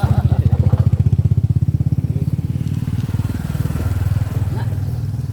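A motorcycle engine runs close by with a rapid, throbbing low pulse, idling loud and steady before slightly changing pace, with faint voices in the background.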